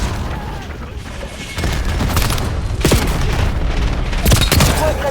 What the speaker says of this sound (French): L'ennemi a tiré un missile de précision.